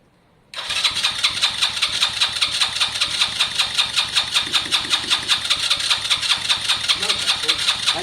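A Lexmoto Valiant motorbike engine cranks and then fires into a steady, rapid, close chugging idle that continues evenly to the end.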